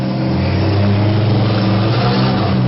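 Demolition derby cars in a youth heat roar and rev loudly and continuously, a dense, saturated engine wall with no talk over it.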